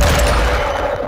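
A Semtex grenade explodes in the video game Call of Duty Modern Warfare II. It makes a loud, sustained booming roar with a crackling, gunfire-like texture that fades slightly toward the end.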